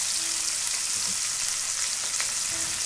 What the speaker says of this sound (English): this is going to help to add flavors to our onions as they're sautéing